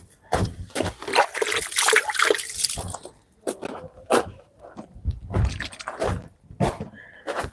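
Water splashing and trickling as fresh tomatoes are rinsed, with uneven sloshes and thunks in bursts close by, no talk over it.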